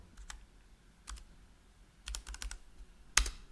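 Computer keyboard typing in short clusters of crisp key clicks separated by pauses, with one sharper, louder keystroke near the end, close and fairly quiet, with no talking.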